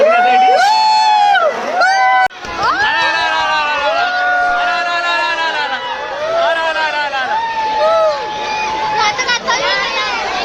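A dense crowd of visitors at the Mumbai zoo tiger enclosure fills the air with loud, continuous chatter, excited shouts and children's voices, all close and overlapping.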